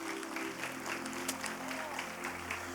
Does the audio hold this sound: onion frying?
no